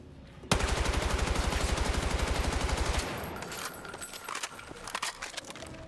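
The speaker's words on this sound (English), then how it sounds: "Nice tight grouping there, bit better than the hip fire. And we'll just do that again, hip fire." Rapid hip-fire bursts from a gun in the video game Battlefield 6, shot into a wall: a loud, tightly spaced automatic volley for about two and a half seconds, then scattered impact clatter and fainter trailing shots.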